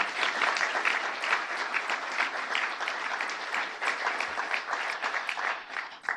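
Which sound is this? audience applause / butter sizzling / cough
audience applause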